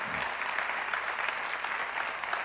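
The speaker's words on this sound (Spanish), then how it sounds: "si va a aplaudir, hágalo con más ganas, iglesia" Church congregation applauding during a Spanish-language sermon, a steady dense wash of clapping held at an even level for the whole stretch, with no voices over it.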